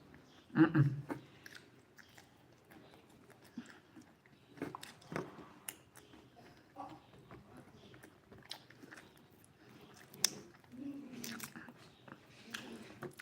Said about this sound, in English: let me not be here looking into the camera and chewing groundnuts.